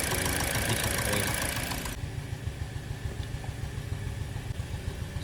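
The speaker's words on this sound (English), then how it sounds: "But obviously there is a misfiring, and it's either spark plug or the ignition coil." Car engine with a cylinder misfire (cylinder 1, suspected spark plug or ignition coil fault) running steadily at idle nearby, a brief louder burst at the start giving way to a continuous uneven rumble with regular small pulses.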